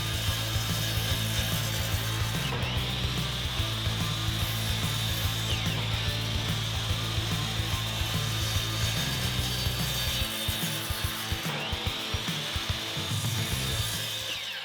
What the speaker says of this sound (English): go back to your miter saw, and we're going to cut as many as we can out of this piece